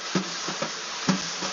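Brush strokes on a drum, soft swishing sweeps with a few gentle accented taps in a loose rhythm, close and fairly quiet against a constant background hiss.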